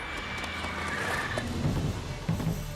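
Geralt's horse Roach from The Witcher 3 gives a short whinny amid steady outdoor background noise, a couple of brief snorting sounds following near the end.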